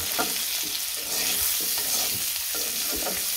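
Vegetables fry in a pan at home with a steady sizzle, broken by repeated scraping strokes of a spoon stirring them, close and alone.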